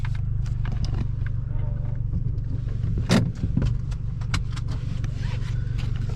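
Car rolling slowly into a race day parking lot, a low steady engine drone close by with a few small clicks and rattles over it, and a brief thump partway through.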